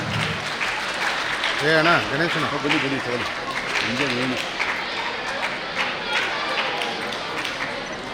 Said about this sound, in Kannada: ತಮ್ಮೆಲ್ಲರ ಜೋರು ಚಪ್ಪಾಳೆ ಮೂಲಕ ಪ್ರೊಫೆಸರ್ ಅಂಪನ್ ಅವರಿಗೆ ಸ್ವಾಗತವನ್ನು ಬಯಸ್ತೇನೆ.